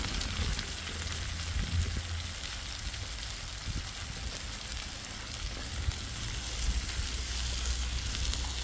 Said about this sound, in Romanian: Le prăjesc pe toate puțin împreună